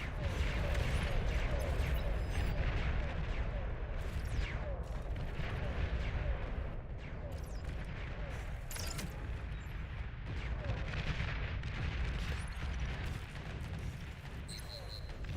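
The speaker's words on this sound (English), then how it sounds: "commander destroyed. It's gone bomb." A commander unit explodes in the real-time strategy game Beyond All Reason, heavy rumbling blasts and crackling detonations layered over continuous loud battle noise throughout.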